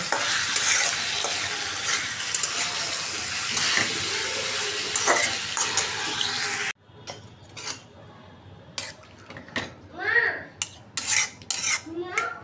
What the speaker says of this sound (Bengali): ভালোভাবে কষাই নেব।